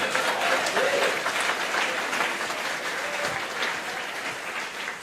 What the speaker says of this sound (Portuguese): Quantos o aplaudem por sua misericórdia?